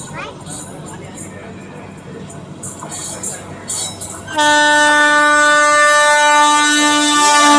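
A Ratnagiri–CST MEMU Ganpati special train pulls in, first a rumbling approach under chatter, then a loud sustained horn blast that fills the last three seconds.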